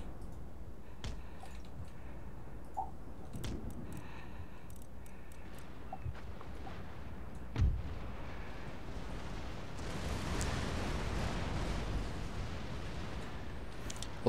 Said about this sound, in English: there's all my brigs just shooting at this